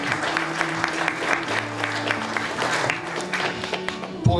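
An indoor audience breaks into sustained applause, dense even clapping from many hands at moderate volume that continues for several seconds.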